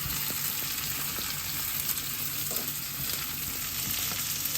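Chopped onion goes into hot oil with cumin, coriander, fenugreek seeds and ginger, giving a steady, fairly faint sizzle with a few light clinks beneath a constant high hiss.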